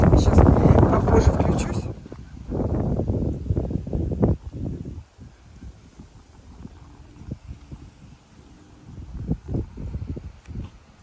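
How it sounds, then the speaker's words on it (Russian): Wind buffets the microphone in loud, rough gusts, then eases into lighter rustling; a voice talks intermittently through it. "Ветер сильный"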